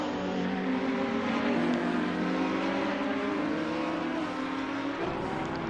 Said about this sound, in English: A couple other cars coming into the pits there.